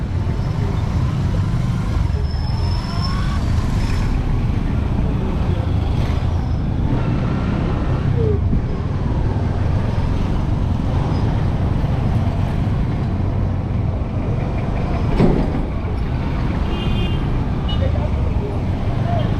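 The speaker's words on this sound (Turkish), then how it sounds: "Wow, bu ne trafik arkadaş." Busy street traffic in Uganda, a steady broadband roar of cars, trucks and engines passing close by, continuous throughout with a brief louder swell near the end and no clear talk.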